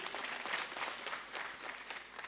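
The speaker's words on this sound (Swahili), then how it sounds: "basi tumpigie makofi huko alipo" Applause at a university graduation ceremony, a steady wash of clapping from an audience in a large hall, moderately loud and continuous for the whole stretch.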